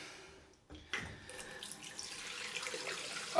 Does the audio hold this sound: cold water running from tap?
yes